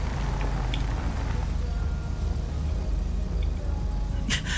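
A car driving in GTA 5 Online gives a steady low engine rumble throughout, with a brief hiss near the end, and no talk over it.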